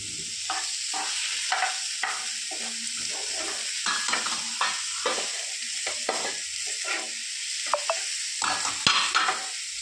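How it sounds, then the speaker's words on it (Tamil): Onion sautés in a pan, a continuous sizzle broken by repeated close scrapes of a stirring spoon, with no voices. "நல்லா வதக்கிக்கலாம்."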